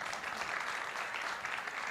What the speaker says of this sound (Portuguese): Cláudio, salva de palmas